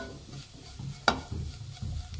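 Spice powder is stirred into a hot pan while carrot rice is being cooked, giving a quiet, low sizzle with soft scraping and one sharp clink of the utensil against the pan partway through.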